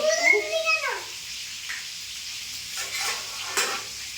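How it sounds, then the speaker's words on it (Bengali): Spices with turmeric and black cumin fry in hot oil in a pan while being stirred, a soft steady sizzle with scraping stirs, heard under a woman's speech at the start. "এই যে লাল লাল করে ভাজবো"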